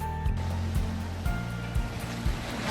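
Waves roll in at Someshwara beach in Mangalore, a continuous rushing surf with periodic surges, heard steadily and fairly close with a low rumble underneath and no voices.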